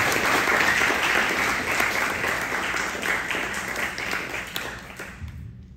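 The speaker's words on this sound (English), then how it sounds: "So let's give a round of applause for Sid and Danu." Wedding guests give the couple a round of applause, a dense, steady clapping that gradually thins and fades out near the end.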